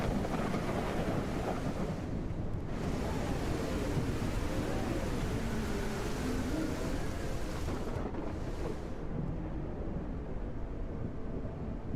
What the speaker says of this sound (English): Can't hear anything with the rain.